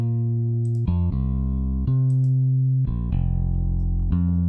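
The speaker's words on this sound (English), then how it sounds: "We hear more the mid-range of the bass, that will actually the singing of the bass, right?" A bass guitar plays a short sustained riff of several held notes, processed with a mid-range EQ boost around 1700 hertz that brings out its upper tone, loud and alone without any voices.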